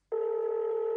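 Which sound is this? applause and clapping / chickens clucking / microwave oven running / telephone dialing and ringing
telephone dialing and ringing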